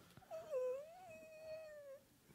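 A dog lets out a single drawn-out whimper toward its owner, a thin, wavering whine that rises and falls for over a second before fading, faint and close.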